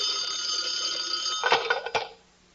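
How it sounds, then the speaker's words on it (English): A bell-like electronic ring sounds steadily, then breaks into a couple of jangling bursts before cutting off into quiet. "Suddenly the phone rings."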